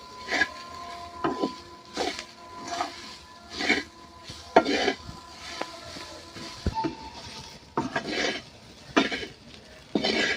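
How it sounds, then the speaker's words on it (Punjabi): A spoon or spatula stirs salt and chilies into vegetables for a Punjabi fenni recipe, with repeated scraping and clinking strokes against the pan at an irregular rhythm, close and fairly distinct. "ਹੁਣ ਇਹਨਾਂ ਨਮਕ ਅਤੇ ਮਿਰਚਾਂ ਨੂੰ ਦੋਨਾਂ ਨੂੰ ਆਪਾਂ ਮਿਕਸ ਕਰ ਦਿੰਨੇ ਆ"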